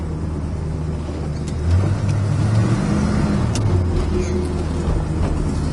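A 1966 Pontiac GTO cruises along with a steady, loud engine drone and road noise, the tone lifting slightly as it pulls forward, with no rattles standing out.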